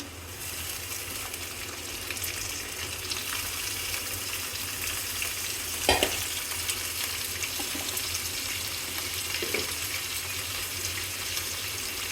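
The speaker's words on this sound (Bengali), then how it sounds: "এখন আমি পেঁয়াজের সাথে চিংড়ি মাছগুলো দিয়ে দিব দিয়ে তো মাছগুলো আমি একটু ভেজে ভেজে নেবো" Shrimp fry with onions in a pan for a Bengali ridge gourd curry, producing a continuous close sizzle with a watery bubbling edge and one brief louder clatter from stirring, and no speech.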